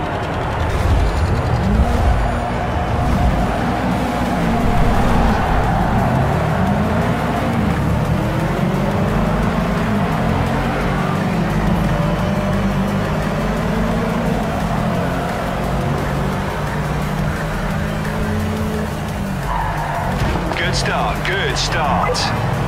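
Racing cars revving and roaring together at the start of a race in the video game Project CARS 3, a dense, loud engine drone with rising pitch sweeps throughout, ending with a brief burst of sharper noise.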